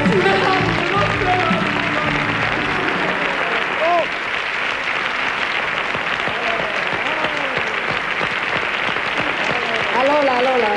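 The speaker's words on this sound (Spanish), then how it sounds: "Este aplauso es para ella." Audience applause for a singer at a televised gala, sustained clapping filling the hall alongside singing voices, steady and loud throughout.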